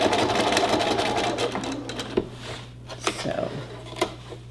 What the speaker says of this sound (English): and then you continue sewing up